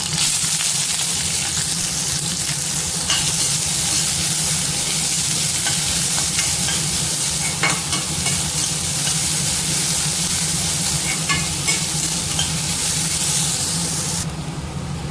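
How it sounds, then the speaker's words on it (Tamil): Onions, crushed garlic and green chilies frying in a pan for a banana flower stir-fry, a loud continuous sizzle with occasional stirring scrapes, close and steady throughout. "பாருங்கள், வெங்காயம் ஓரளவுக்கு வதங்கிடுச்சு, ரொம்ப வதங்க வேண்டாம்."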